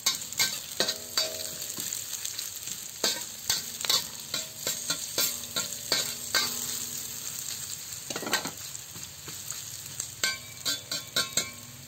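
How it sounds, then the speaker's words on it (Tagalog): Sliced onion sautés in a pan for chicken adobo with pineapple. A loud, continuous sizzle is broken by repeated stirring scrapes and spatula knocks at an uneven rhythm, close up and with no voices. "ilagay na natin ang hiniwang sibuyas. Ayan, gisayin lang natin yan."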